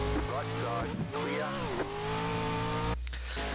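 Race car engine in the iRacing sim, a Pro4 truck on a dirt-style track, holds a steady droning note that rises and dips with throttle, with a brief tire squeal, running under someone talking.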